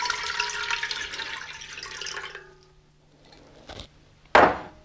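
Four cups of water pour into a soup pot for cauliflower cream soup, a steady splashing stream for over two seconds that tapers off, followed by a couple of clunks.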